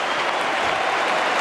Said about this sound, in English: Rounds of applause, the hooters blown.